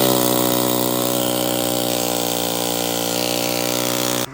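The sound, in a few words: power tool cutting out a stuck stud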